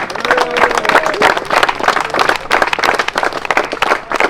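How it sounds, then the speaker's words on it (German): Loud, close applause for the Bambi Racing team at a turbo-kart race event in Wohlen, many hands clapping in quick irregular bursts that carry on unbroken, with faint voices mixed in at the start. "Auch dort einen grossen Applaus für Bambi Racing."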